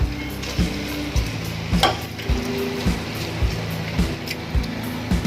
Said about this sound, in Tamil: இப்போ இந்த ரைஸையும் நல்லா நம்ம இது கூடவே கொஞ்சம் லைட்டாக வதக்கிக்கலாம்